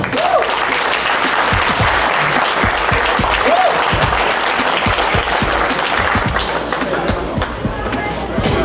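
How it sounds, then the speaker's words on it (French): Loud, dense applause fills a gala hall at a Miss Centrafrique pageant in Montréal, a sustained wall of clapping from a large audience with occasional thumps and a voice or two underneath. "je vous demande d'applaudir très fort"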